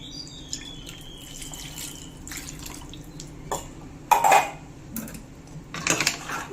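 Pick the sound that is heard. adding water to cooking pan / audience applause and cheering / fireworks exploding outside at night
adding water to cooking pan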